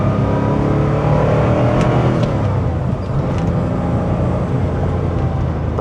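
A 1985 Porsche 911 Carrera engine pulls hard in second gear, a loud steady drone heard from inside the car with a slight dip in pitch midway, and no talking.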